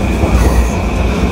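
A moving passenger train packed with standing riders rumbles steadily, with low wheel-on-rail roar and a faint metallic squeal, loud and close throughout.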